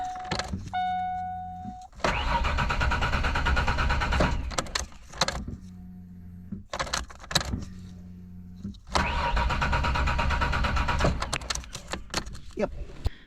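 The engine of a car that won't run cranks repeatedly without catching. Long whirring bursts of the starter are broken by short pauses and a few clicks, close and loud, with a voice briefly heard.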